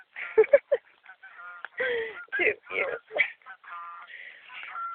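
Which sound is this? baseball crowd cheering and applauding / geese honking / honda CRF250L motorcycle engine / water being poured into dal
geese honking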